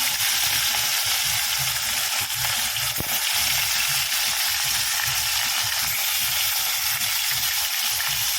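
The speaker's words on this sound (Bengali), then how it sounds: "এবার এক এক করে মাছগুলো আমি ভেজে নিই একটু লাল লাল করে ভেজে নিই" Fish pieces frying in plenty of hot oil, a loud, unbroken close-up sizzling hiss that stays even throughout with no voices.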